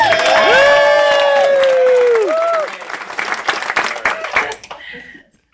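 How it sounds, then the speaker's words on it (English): Wedding guests give a round of applause for the best man at a wedding reception. The clapping and cheering are loud, with a whistle-like sweep over the top at first, then thinning into scattered claps before they fade out. "So please let's give him a round of applause."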